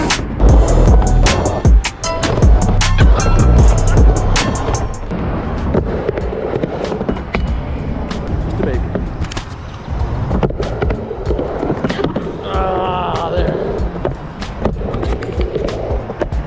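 Skateboard frontside grinds on ramps of several heights: close, loud rolling wheel rumble, repeated sharp board clacks and scraping grinds spread across the span, with faint background sounds.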